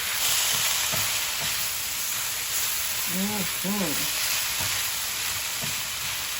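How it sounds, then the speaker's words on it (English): Steady hiss of food sizzling in a hot pan, with a few soft clinks and brief scraping sounds over it. "Ooh, that nice sizzle. Heat is up high."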